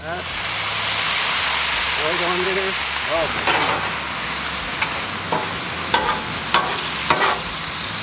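Mushrooms and onions sizzle on a Blackstone griddle with a steady loud hiss, joined by a few scraping and tapping sounds from a utensil toward the end.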